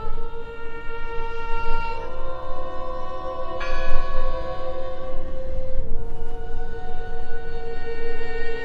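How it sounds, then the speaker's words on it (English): Bell ringing in the noir mystery adventure game Draugen, with sustained tolling tones that swell and decay across the stretch, fairly loud and alone with no voices. "I heard the bell."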